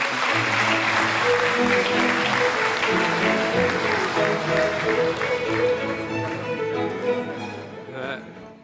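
Loud, sustained applause from an audience welcoming a speaker to the podium at a formal launch ceremony, with a low tonal hum underneath, fading out toward the end.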